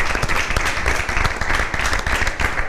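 Studio audience applauding the team staff on an Italian football television show, a loud, continuous burst of clapping with many hands close together and no speech over it.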